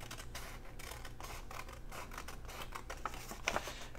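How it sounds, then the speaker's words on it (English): Scissors snip through paper along a fold line for a decorative envelope template, a quiet, close series of short crisp cuts and rustles in a steady rhythm. "cut straight up that fold line"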